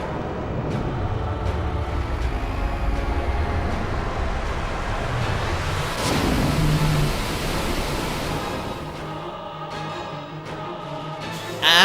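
A Water Jaw water attack in Final Fantasy XII: a sustained rushing, surf-like water roar that swells midway and fades, steady and broadband, with small chimes at the start and end.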